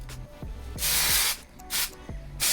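Hairspray hisses from an aerosol can onto long, voluminous curled hair in short close bursts, several sprays separated by brief pauses and faint clicks of the nozzle.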